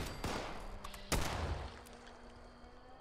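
Quad explosive Pipe Revolver firing in Fallout 76, a few sharp gunshots with one loud crack standing out above a steady game backdrop, no talk.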